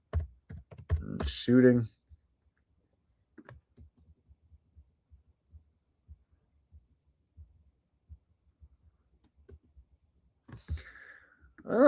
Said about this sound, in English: Let's type in Trump